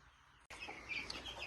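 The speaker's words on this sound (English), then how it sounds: "Are you ready to move the chickens in here?" Backyard chickens being moved into a new pen cluck and chirp in short, faint bursts after a brief thump, close by with no talk.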